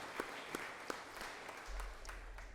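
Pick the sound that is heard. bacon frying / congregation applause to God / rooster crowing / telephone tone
congregation applause to God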